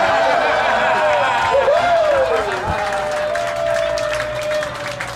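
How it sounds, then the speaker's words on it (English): Guests at a surprise birthday party in Puerto Vallarta, Mexico applaud and cheer together, a dense, loud wash of clapping with a voice talking over it and a whistle-like tone rising and falling. "Everybody, let's give a bigger applause to the Mexican Lady Gaga."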